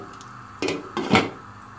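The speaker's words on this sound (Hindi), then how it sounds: "अब हम इसकी लिड लगा के इसको कवर करने के लिए आधा घंटे के लिए रख देंगे" A lid set down on a cooking pot of beef kofta curry, giving two or three close metallic clinks and clatters in quick succession, with no talking.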